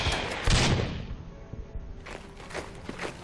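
Artillery fire in the wartime strategy game Order of Battle: Blitzkrieg, a loud booming blast followed by a fading rumble, then a few lighter thuds and bursts.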